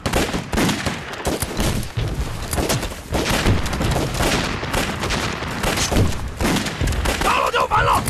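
Dense volley of rifle and machine-gun fire from soldiers in a war film, a sustained loud barrage of overlapping shots and booms running without pause.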